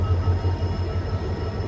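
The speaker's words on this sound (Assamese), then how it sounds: "এই ট্ৰেইনখন আহিছে চাগে এইখন।" A train pulling into a station gives off a low, steady rumble of wheels and engine, moderately near and without pauses, with no one speaking.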